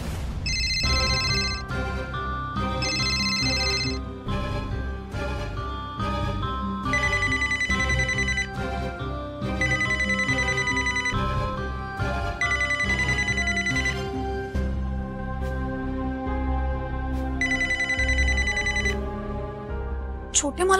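A telephone ringing in a Marathi TV serial scene, its electronic ringtone repeating in bright, regular bursts across the whole stretch over a low, steady bed of background sound.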